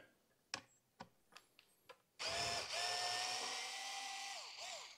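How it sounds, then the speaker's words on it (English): Someone works T25 screws out of a motorcycle tank bib on an Indian Springfield Dark Horse. A few sharp clicks and taps come first, then a loud, steady whirring drive runs for several seconds close by. "These two screws are T25s. So I'm going to carefully take those out."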